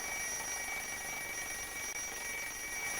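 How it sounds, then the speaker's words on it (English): An alarm clock bell rings continuously and loudly at steady volume for the whole stretch, with no talking over it. "As we move away, the sound of the alarm gets quieter."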